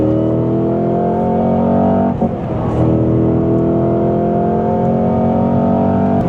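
A 2025 Cadillac CT5-V Blackwing's engine drones steadily from inside the cabin while driving, holding a constant loud tone with a brief dip and shift partway through as the car maneuvers.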